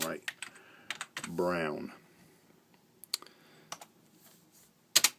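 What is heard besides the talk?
typing on a computer keyboard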